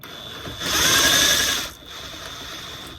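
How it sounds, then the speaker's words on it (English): An impact wrench with a 21mm socket drives a bolt back in on an Audi Q7 front brake caliper during a pad and rotor job, giving one loud, close whirring burst of about a second before stopping. "We get our 21mm with the impact and put it back in."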